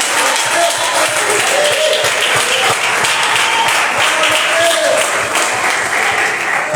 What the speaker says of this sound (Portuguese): Você pode aplaudir o Senhor, Ele é digno de toda honra